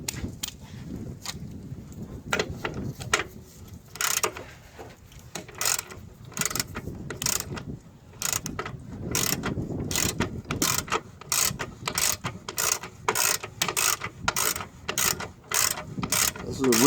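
A ratchet works a long vertical bolt loose on a car's suspension, its rapid clicking bursts repeating in quick strokes, close and crisp, with brief pauses between runs.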